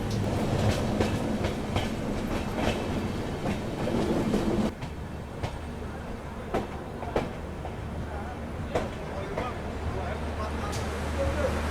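An LHB coach on the Purvanchal Express rolls along the rails with steady rumble and rhythmic clickety-clack wheel beats, busier for the first few seconds and then a smoother low drone with occasional clicks.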